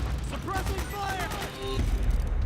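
Metal Gear Solid 4 gameplay battle audio: rapid gunfire and booming blasts rumble continuously beneath shouted soldier commands.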